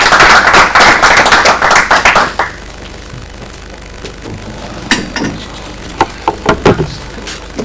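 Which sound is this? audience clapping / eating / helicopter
audience clapping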